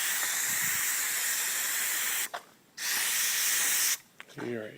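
A sprayer hisses loudly and close while spraying bushes around a swimming pool to treat algae, a long steady spray, a short pause, another burst, then brief talk at the end.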